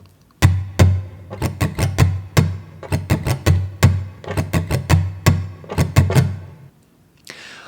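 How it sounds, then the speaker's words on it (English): Muted guitar strings strummed in a steady rhythm, each stroke a dull percussive chuck, close and fairly loud, with no voices. "So if we mute our strings and we do a few in a row just to get the right hand down with some muting"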